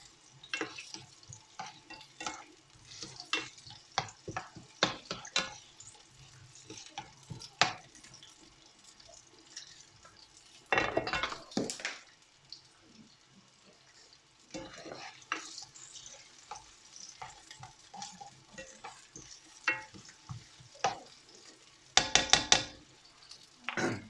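Chicken jalfrezi ingredients fry in a pan while being stirred, with soft sizzling under repeated sharp scraping and clattering strokes of the spoon, some bursts louder and closer, no talk.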